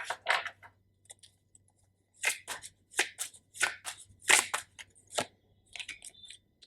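Tarot cards being shuffled and drawn from a deck, a string of crisp riffling and flicking bursts separated by short pauses, close and fairly quiet, with no talking.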